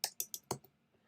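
Four quick, crisp keystrokes on a computer keyboard tap out close and clear in a quiet room, followed by faint trailing clicks.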